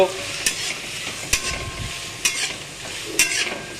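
A spatula is stirred through sizzling food in a pan, giving four sharp scraping strokes at a steady, unhurried pace over a constant frying hiss.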